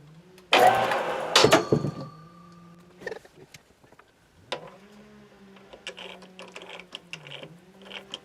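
A mini mill squares up a small metal block held at the edge of the vise, starting with a loud harsh cutting burst, then a humming motor with intermittent scraping chatter and rising, falling pitch.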